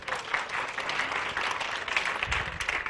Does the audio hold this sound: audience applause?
yes